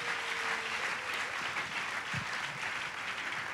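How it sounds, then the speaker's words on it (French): A church congregation at an open-air ministry meeting in Hazyview, South Africa applauds steadily, a dense, even wash of clapping that fills the whole stretch without any clear voices. "Acclamez le Seigneur Jésus."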